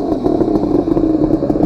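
Two-stroke engine of a 1978 Kawasaki KH250B motorcycle running close up, a loud, rattly, pulsing burble with a steady uneven throb and no talk over it.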